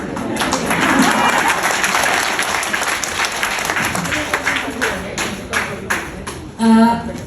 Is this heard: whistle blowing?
no